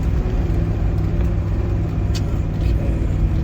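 Jeep crawling an off-road trail in low range, third gear, at about 20 mph and 2,800 RPM; a steady, loud low engine drone and rumble continues throughout without any talk.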